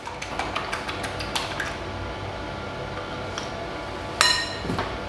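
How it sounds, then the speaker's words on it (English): An egg is whisked quickly in a bowl to make an egg wash for scones, giving light, rapid clinking taps, followed by one sharper clink near the end. "We'll just give that a quick whisk up."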